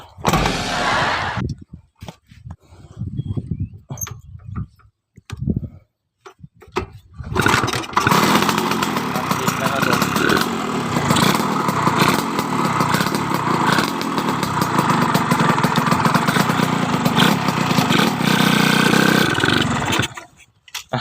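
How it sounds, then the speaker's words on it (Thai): A Honda Tena motorcycle low on fuel sputters through several short, uneven start attempts, then catches and settles into a loud, steady idle that runs close up for the rest of the stretch. "เดี๋ยวลองสตาร์ทดูไม่รู้ว่าจะติดหรือเปล่า"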